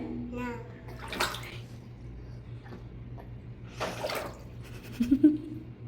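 Water splashes in short bursts as a baby is bathed indoors, with a low steady hum beneath, and a child's and an adult's voices briefly break in.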